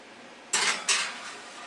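A metal baking pan slides and clanks against the oven racks, two quick scraping clatters close by followed by a fading ring, with no talk.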